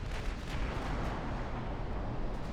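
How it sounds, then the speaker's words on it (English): Cruiser torpedo hits in a naval battle game, heard as a dense, continuous rumble of overlapping booms and impacts with scattered sharper bursts, steady and loud throughout. "the cruiser torpedoes are starting to arrive"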